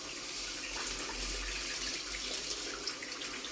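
Tap water runs steadily over peppers being washed for a tomato and pepper pickle, a continuous close splashing hiss that fills the whole stretch with no speech.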